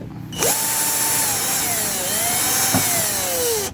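A power drill loosens nuts on a steel part, whirring up sharply, holding a steady high whine with a slight pitch dip midway, then briefly catching again before winding down.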